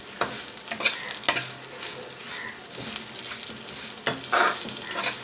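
Sesame seeds dry-roasting in a pan for a tangy tamarind-sesame chutney, stirred constantly with soft scraping and light crackling, a few sharper scrapes standing out, close and alone.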